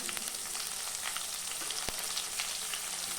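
Sliced big onions sautéing in oil in a pan, a soft, steady frying sizzle, fairly faint and continuous, with a single light clink.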